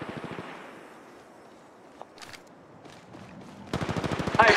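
Automatic and rapid gunfire from the Apex Legends Mobile game, a brief burst at the start, then scattered shots, ending in a loud sustained rattling volley that grows closer and louder with no talk.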